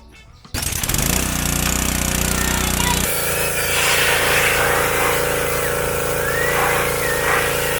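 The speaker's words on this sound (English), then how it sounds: "It's a Subaru pressure washer" A Subaru-powered pressure washer starts up and runs, a loud, close, steady engine buzz with rattling pump noise and hissing spray while cleaning the lower control arms of a long-travel Toyota Tacoma.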